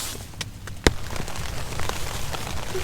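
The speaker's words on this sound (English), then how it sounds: "You can probably hear it's sprinkling. Kind of rained on and off all night." Light night rain sprinkles steadily on a hot tent, a dense soft patter over the fabric with one sharper drop tapping close, heard alone with no voices.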